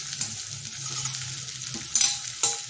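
Colocasia (taro) leaf pieces roast in a hot pan with a soft continuous sizzle, punctuated by a couple of sharp scraping stirs near the end, close and moderately quiet.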